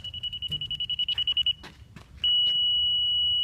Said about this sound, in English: You slowly move this thing down until you get a beep, until it flatlines.